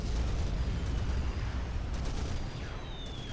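A large explosion in the real-time strategy game Supreme Commander, during a match with nukes and experimental units: a loud, continuous rumbling blast that fills the whole moment and slowly fades.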